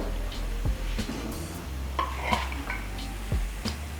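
Pork in a pan on the stove is stirred with a utensil. Scraping and clinking strokes repeat irregularly over a soft sizzle, close by, with no talking.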